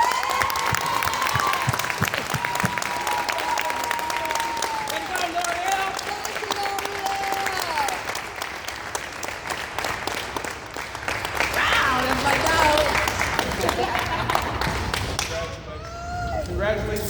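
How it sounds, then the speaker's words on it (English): An audience at a team gathering applauds a scholarship winner, with dense steady clapping and crowd noise filling the whole stretch while a voice speaks over it. "give a big loud round of applause for the first annual K-Money Scholarship winner"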